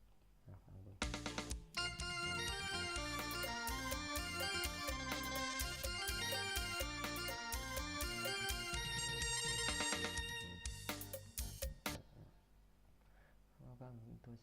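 An electronic keyboard set to a guitar voice plays a dense, bright melodic phrase. It starts after a short lead-in and runs loud and steady for about ten seconds, then breaks into a few scattered notes before fading.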